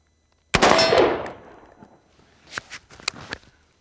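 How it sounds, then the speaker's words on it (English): A single sharp shot from a modern sporting rifle fired close by, with a quick decaying report followed by a few faint metallic clinks and shuffling. "I'm going to shoot one round."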